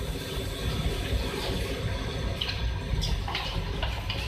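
Cooking oil, a full cup, poured into a pot while making spicy beef pulao, a steady close liquid rush and sizzle filling the whole stretch without any talk.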